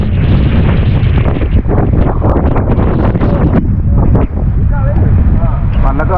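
Strong monsoon wind roars over a small boat on a pond in Kerala, loud steady buffeting close to the microphone, with people talking beneath it.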